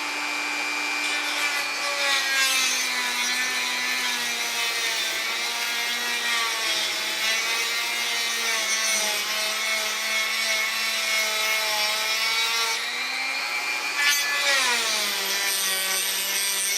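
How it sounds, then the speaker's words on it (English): A small saw blade cuts through the chassis of an HPI Ford GT drifter RC car with a continuous high, whining buzz that holds steady for a long stretch, dipping in pitch briefly near the end. "I'm going to slice this section out here that we don't need and get that cut as evenly as I can."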